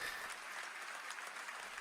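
Brief, faint audience applause at a music performance event, a dense patter of clapping that stays level for a couple of seconds with no voices.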